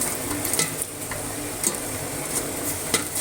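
Chopped onion and country chicken being stirred in a hot pan, a steady sizzle with scraping spoon strokes against the metal, close and loud.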